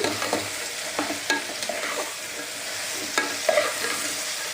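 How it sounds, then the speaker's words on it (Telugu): Broad bean pieces stirred into a curry masala in a pan, producing close, repeated scraping and soft sizzling strokes in an uneven rhythm, with no talk. "ఇప్పుడు ఈ చిక్కుడుకాయ ముక్కలు ఇందులో వేసేసుకోవాలి ఒకసారి అంతా కలిపేసుకుందామండి"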